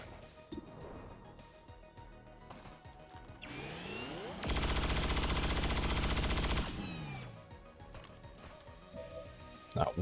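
Rapid automatic gunfire in XCOM 2 with the Highlander mod, a dense sustained burst of about two seconds standing loud over quieter game ambience, with smaller scattered shots and clanks around it.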